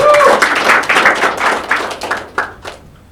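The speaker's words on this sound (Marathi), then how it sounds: "नेक्स्ट आदित्यसाठी एकदा जोरात टाळ्या बाई" A studio audience claps loudly for a contestant on a Marathi roasting show, a dense burst of hand claps that thins out and fades over a few seconds.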